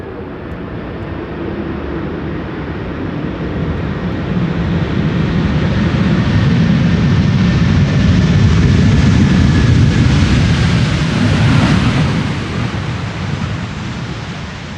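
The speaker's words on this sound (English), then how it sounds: "Delta Airlines Flight 74, returning from Atlanta, Georgia. A330-300" Delta Airlines A330-300 landing at Amsterdam Schiphol in a crosswind, a loud, broad jet roar that swells as it passes close by and then slowly fades, with no talk.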